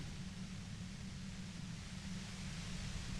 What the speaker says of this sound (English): You hear through the white noise. It's especially bad suddenly.